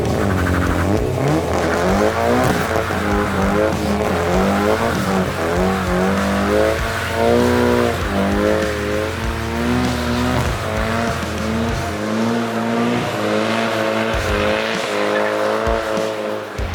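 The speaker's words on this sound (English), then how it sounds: "But one thing he did that I didn't expect was the burnout that he pulled off." A car doing a burnout at a car-show event, engine revving hard with a sustained tire squeal and rising, wavering pitch over about seventeen seconds, loud and continuous with some crowd or speech faintly underneath.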